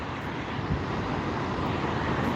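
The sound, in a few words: NetJets Embraer Phenom 300 private jet landing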